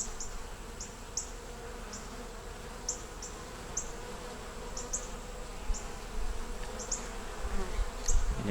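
Honey bees buzz steadily on a hive frame holding nectar and a little honey, a dense close drone with brief higher whines of individual bees passing near, continuous throughout with no talk.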